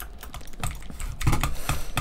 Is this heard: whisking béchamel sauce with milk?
no